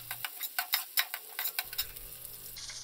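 Green chilli pieces and dried red chillies frying in a pan, a soft continuous sizzle broken by quick light stirring scrapes and ticks, close and fairly quiet, with no voices.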